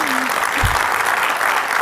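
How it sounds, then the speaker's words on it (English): Applause from an audience at a National BSA meeting, a steady wash of clapping filling the room while a speaker addresses the crowd, with a brief low thump partway through. "Clapping is a good sign"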